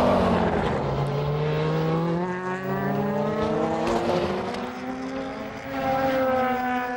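DTM race cars, an Audi A4 among them, roar past on the Valencia circuit at Cheste, a loud continuous engine drone with rising and falling pitch as several cars pass close by.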